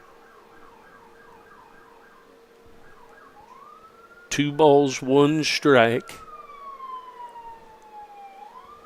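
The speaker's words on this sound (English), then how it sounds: "As the siren goes by," An emergency vehicle siren wails and yelps as it passes near a college baseball game, rising and falling in pitch, with a commentator's voice briefly louder over it in the middle.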